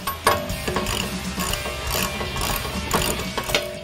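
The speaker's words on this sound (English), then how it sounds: "Then we'll go back through and tighten." A hand ratchet tightens bolts on the rear wheel bearing and hub assembly of a 2015-2023 Ford Mustang, its rapid clicking pawl running in repeated bursts, close and fairly loud with no talking.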